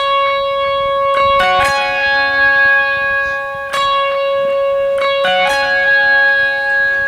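A Telecaster electric guitar plays a song intro with very soft overdrive, a gentle dotted-eighth delay and a little reverb: ringing, bell-like single notes and chord stabs that echo and sustain, fairly loud and alone.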